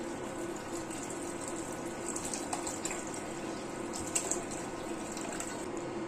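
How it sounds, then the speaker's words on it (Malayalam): Water pours into a pan of spicy tuna fish curry in a Kerala kitchen, a soft, steady trickling and splashing throughout, fairly faint. "നമുക്കിതിലേക്ക് ഇനി ആവശ്യത്തിന് വെള്ളം കൂടി ചേർത്ത് കൊടുക്കണം"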